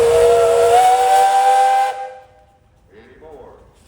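A steam tractor at a parade sounds its whistle, one loud, sustained, hissing blast lasting about two seconds that then cuts off, followed by faint crowd noise.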